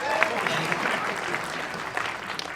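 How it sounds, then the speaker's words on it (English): Audience applause from a crowd at an awards event, a steady wash of clapping held for a couple of seconds at moderate loudness. "Gets applause."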